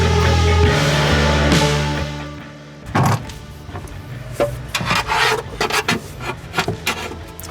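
Paint is scraped off a car chassis to clean an earth point for a battery relocation on a 9N3 Polo GTI, giving close, irregular rasping scrapes in short bursts after an earlier stretch of louder buzzing noise.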